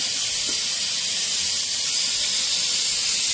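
Hot oil in a cooking pan, where mustard seeds sizzle: a steady, loud, even hiss with no pauses, heard alone.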